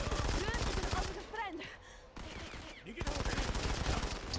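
Rapid gunfire from the video game Modern Combat 5, a dense burst of shots that stops briefly in the middle and then resumes, loud and close, with game voices heard through it.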